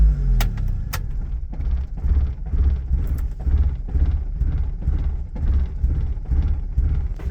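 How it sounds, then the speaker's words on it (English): A 1987 Honda Civic Wagovan's engine rumbles low and steady at close range, with a few clicks near the start, running on in a lumpy, pulsing idle as though dieseling after shut-off. "Let's shut her on off now and see if she diesels."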